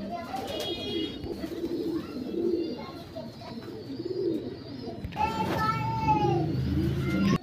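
Old pigeons kept by a Bengali fancier coo and call softly under ongoing chatter from adults and children, with a burst of bird sound near the end.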